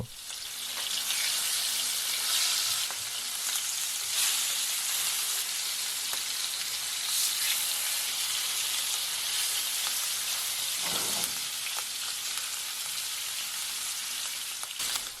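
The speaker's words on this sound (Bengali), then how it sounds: "ইলিশ মাছগুলোকে আমরা এক সাইডে এক মিনিট করে ভেজে নেব" Hilsa fish pieces frying in oil in a pan, a steady, loud, dense sizzle that fills the whole stretch with no speech, with one brief clink partway through.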